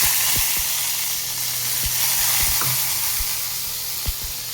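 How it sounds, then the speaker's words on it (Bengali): Whole garam masala spices sizzling in hot oil while cooking banana flower, a loud, steady close frying hiss with a few soft taps and clicks of a utensil scattered throughout. "দেখো গোটা গরম মশলা ফোড়ন দিয়ে দিচ্ছি"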